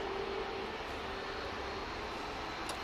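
An airliner departing Manchester Airport bound for Amsterdam Schiphol roars steadily at a distance, a broad continuous engine rumble holding even throughout with no talk over it.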